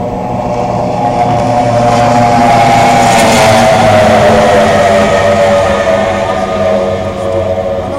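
Twin-rig race boat at the Grafton Bridge to Bridge water-ski race, its engines giving a loud, sustained roar that swells as it passes close by and then holds steady, with no talk over it.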